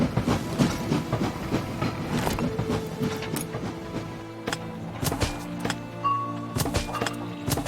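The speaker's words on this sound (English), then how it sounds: "we'll see one train going to the harbor and one train coming back to the power plant" Trains running on tracks in Anno 1800, a busy clickety-clack of wheels with mechanical clanking and rolling rumble, continuous with sharp periodic clicks.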